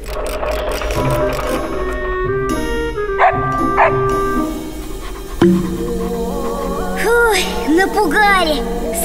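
Cartoon dogs bark and yip in short high bursts near the end, layered over music and voices in an animated scene.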